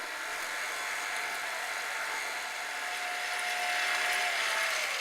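An electric hand mixer whirs steadily while beating pumpkin into eggs and sugar, a continuous close motor hum with no pauses.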